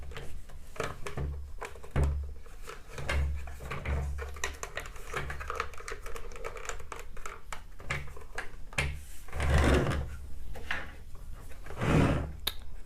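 G.I. Joe action figures dropped into a plastic toy vehicle, a run of light plastic clicks, taps and hollow thunks close by, with a few louder knocks scattered through.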